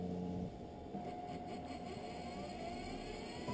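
A lens edger grinding a bevel on a Ray-Ban Wayfarer 5121 prescription transition lens, heard as a steady, low mechanical whir with a faint tonal hum, constant and unbroken throughout.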